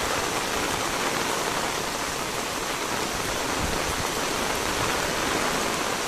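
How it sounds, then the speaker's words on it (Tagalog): Heavy rain pours steadily in Samar, a dense, even hiss that stays constant and fairly loud for the whole stretch with no voices. "Pero pag ganitong maulan, talagang nagbabasaan po kami."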